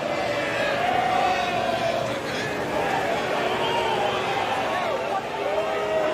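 Golf gallery at the U.S. Open cheering and buzzing for Bryson DeChambeau, a steady wash of crowd noise and chatter heard under a commentator's voice throughout.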